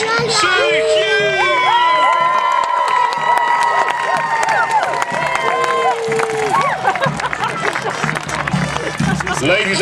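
Crowd at a medieval joust cheering for the runner-up knight, loud sustained shouts, whoops and high children's yells with clapping, close and continuous throughout.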